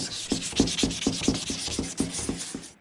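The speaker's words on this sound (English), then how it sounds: "You basically got to sand off all that old crap, all the old layers of clear coat" Sandpaper rubs over a pitted, sun-faded headlight on a 1999 3000GT VR4, stripping old clear coat in quick, even back-and-forth strokes, close and clear with no talking.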